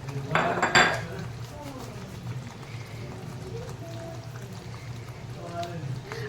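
Methi matar malai, a creamy fenugreek and green pea curry with kasuri methi just added, stirred in a pan on a gas stove: a few sharp metal clinks of utensil against pan near the start, then a soft steady bubbling simmer with faint talk.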